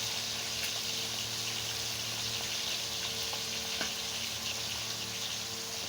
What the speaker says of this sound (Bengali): সব মাছগুলো আমি এরকম করে ভেজে নেব